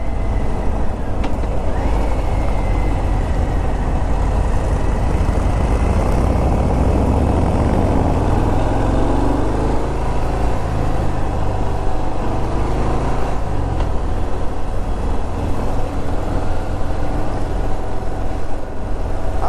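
A 2018 Harley-Davidson Fat Bob motorcycle rumbles continuously while being ridden onto a highway, its loud engine drone steady and close beneath rushing wind noise.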